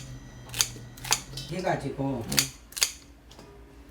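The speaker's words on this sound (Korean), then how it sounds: "갈기 좋게 가위를 잘라줘야 돼요." Scissors snip washed, stemmed green chili peppers, both regular and Cheongyang, for water kimchi. About four crisp, separate cuts are spaced out, close to the listener, with people talking in between.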